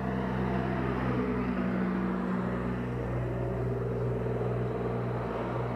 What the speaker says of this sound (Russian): А это трактор. Настоящий трактор.